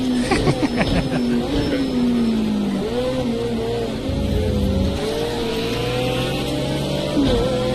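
A high-revving V12 race car engine in a video game screams past at Donington Park, its pitch sliding down then climbing again, loud and continuous with a brief laugh near the start.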